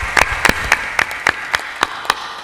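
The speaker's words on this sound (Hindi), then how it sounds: "इसलिए दमदार ताली बजाना चाहिए।" A small audience clapping in a loose, uneven rhythm at a spiritual discourse, about nine sharp claps spread across the moment, moderately close, with no talking.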